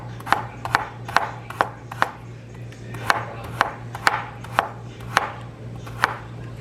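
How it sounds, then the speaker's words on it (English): Vegetables roughly chopped with a knife on a board for stuffed pepper soup, about a dozen sharp close thuds in an uneven rhythm over a low steady hum. "I'm just kind of roughly chopping."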